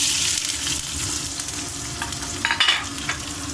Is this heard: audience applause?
no